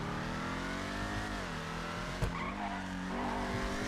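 Vapid Dominator ASP muscle car in GTA 5 Online roars steadily at speed, its engine tone rising and falling with a brief sharp knock midway and faint tire noise, loud and unbroken with no talking.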